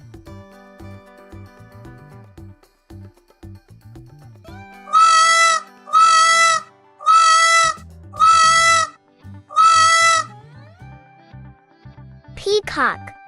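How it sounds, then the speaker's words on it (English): A peacock call sound effect: five loud, nasal wailing cries in a steady rhythm stand out sharply over soft background music. "Peacock,"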